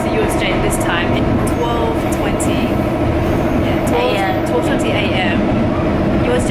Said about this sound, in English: We are on the train back to USJ.